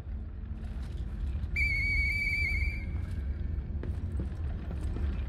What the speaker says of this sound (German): Eine verblasste Polizeipfeife.